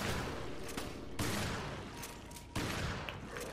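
Heavy gunfire in Resident Evil Revelations, three loud sharp shots spaced about a second apart, each with a long echoing tail, and no talking.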